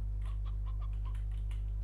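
Chickens cluck in the ranch farming video game Slime Rancher, a few soft, scattered clucks over a steady low hum with no talk.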